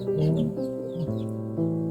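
Several chickens cluck and murmur in overlapping, continuous low calls, close by and moderately loud.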